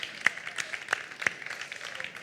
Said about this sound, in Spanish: a mí me gustaría dar un aplauso a este pedazo de público que habéis venido